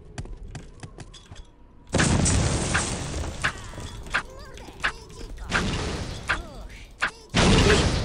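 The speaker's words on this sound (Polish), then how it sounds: "O wow, wybuchło w powietrzu." Several loud, booming blasts from a mid-air explosion in the video game Postal 2 erupt in bursts, with quieter clicks and mechanical sounds between them.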